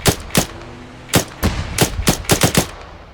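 Gunfire in the video game Arma 3, a string of about ten sharp, loud rifle shots fired in irregular bursts, close and without talk.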